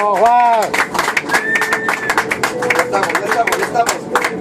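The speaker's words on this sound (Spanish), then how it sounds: "Aplausos dentro del avión, aplausos dentro del avión." Passengers clap inside an airplane on a special flight, a burst of sharp, uneven handclaps mixed with loud shouting and cheering voices close by.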